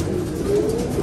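Japan-line breeding pigeons coo softly in a loft. A single short, low coo sits close against steady background noise, with no talk.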